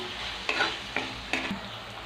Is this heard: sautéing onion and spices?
yes